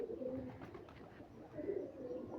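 A restless Giribaj pigeon from Rajshahi coos nearby, with two low, throaty rolling phrases separated by a brief lull.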